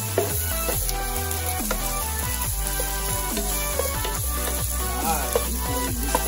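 Onions sautéing in a pan while a Filipino stingray dish is cooked, a continuous close sizzle under repeated scraping stir strokes, with no talk.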